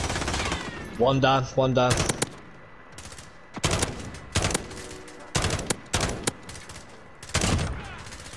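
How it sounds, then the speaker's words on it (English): Video game gunfire crackling in repeated loud bursts of rapid shots, several separate volleys spaced a second or so apart, with a voice speaking briefly between them. "Someone's shooting from behind."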